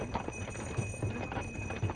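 A horse pulling a buggy clip-clops along at a steady walking rhythm, its hooves knocking softly and evenly with no speech over them.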